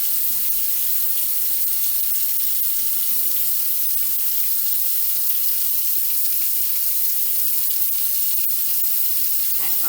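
A lab sink tap runs steadily, giving a continuous, even hiss of flowing water from start to finish with no pauses and no voices.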